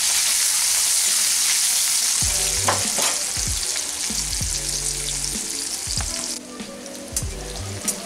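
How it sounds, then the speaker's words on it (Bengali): A large onion frying lightly in oil in a pan for a home-style pea and egg curry, with a steady loud sizzle throughout and several short stirring scrapes and clanks at intervals. "পেঁয়াজটাকে আমি হালকা করে ভেজে নিচ্ছি।"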